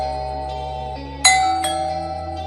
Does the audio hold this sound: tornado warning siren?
no